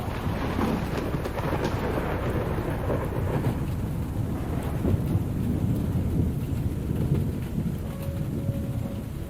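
Steady rain pours outdoors with a low rumble of thunder in the background, continuous and enveloping, with no voices.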